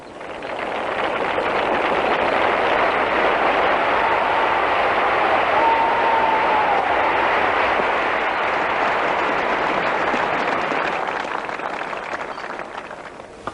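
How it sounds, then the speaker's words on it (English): A large cricket crowd at the Oval in 1934 cheering Don Bradman's century during an Ashes Test, a broad sustained roar of applause and cheers that swells and fades over old, noisy recording. "the crowd is cheering Bradman for his 100"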